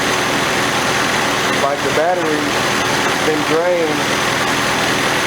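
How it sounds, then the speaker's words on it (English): A 1982 Nissan 720 King Cab truck engine idles steadily in a constant low hum, close and continuous, while someone talks over it. "But it's been sitting here running and it hasn't died."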